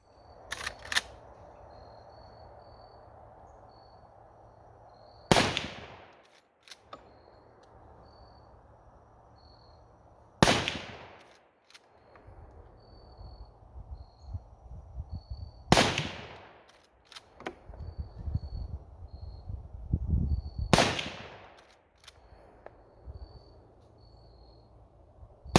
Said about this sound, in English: taking a look at the shots I just took with that Federal ammunition